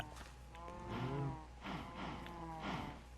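Cattle mooing on a Minecraft cow farm, several low drawn-out moos overlapping in a steady run, fairly close and moderately loud with no talk.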